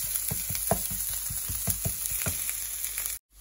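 Garlic, chili and pepper stir-fried until crisp, with a continuous sizzle and a run of sharp, rhythmic scrapes of the spatula against the pan, cutting off abruptly at the end.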